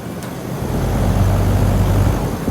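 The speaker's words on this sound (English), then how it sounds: "Two air compressors running big." Two 2013 Carrier Comfort air conditioner compressors run together outside a bank, a steady, loud low mechanical drone with a constant hum and broadband whoosh, no voices.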